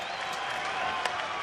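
A baseball stadium crowd at a Minnesota at New York game cheers and claps in a steady, dense roar during an at-bat, spread wide and far off with no break.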